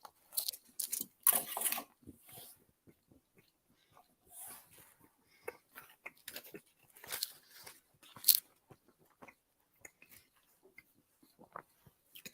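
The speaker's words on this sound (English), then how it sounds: "I don't know if my chewing is overwhelming" Someone bites and chews a hazelnut butter inclusion bar up close, with irregular crunchy bites and soft mouth sounds coming in uneven bursts and pauses.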